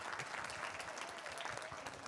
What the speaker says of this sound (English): And one more round of applause for these students and teachers that were here tonight.